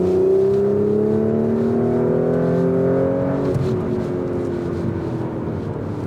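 A 2022 Audi S4 with quattro all-wheel drive accelerating after a downshift on a mountain pass, engine note rising steadily in pitch, then dropping briefly at a gear change before pulling again, heard loud from inside the car.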